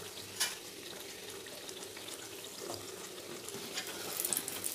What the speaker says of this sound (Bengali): লালচে লালচে ভাজা হয়ে গেলে ছাঁকনির সাহায্যে তুলে নেবো। ছাঁকনিটা শোনাবো।